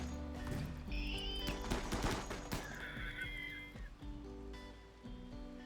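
Rapid bursts of gunfire as colonists attack turrets in RimWorld, a dense clatter of shots mixed with other busy game sounds, loud and continuous throughout.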